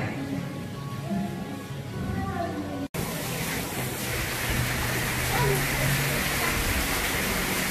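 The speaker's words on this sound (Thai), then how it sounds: "ตอนนี้ฝนเริ่มตกแล้วนะคะ" Rain falling outdoors at a café, a steady hiss of raindrops that becomes much louder and denser partway through, with someone speaking faintly beneath it.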